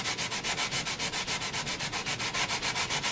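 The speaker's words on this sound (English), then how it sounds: "wants to sand the edges, round the edges more than the middle" Rhythmic back-and-forth sanding on the edge of maple kitchen cabinet veneer, a steady rasping scrub repeating about seven times per second, close and alone.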